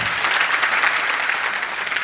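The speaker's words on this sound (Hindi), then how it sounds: "इनके लिए तालियां बजा दीजिए जोरदार" A crowd at a live motivational session for a Tata Motors commercial auto sales team claps loudly and steadily for a team member, dense continuous applause close by with no voices.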